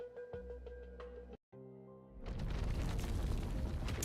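Explosions in the video game Chaos Zero Nightmare as a lab collapses: after a tonal music passage and a brief silent gap, a loud, broad, sustained rumbling blast fills the rest of the clip.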